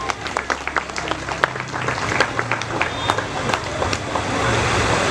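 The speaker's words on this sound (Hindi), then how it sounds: "हाँ, जोरदार तालियां बजाएंगे" An audience at a Christmas celebration of Jesus's birth gives a ragged round of applause, with scattered distinct claps swelling into fuller clapping, while some voices talk underneath.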